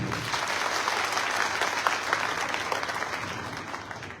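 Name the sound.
audience applause at a political meeting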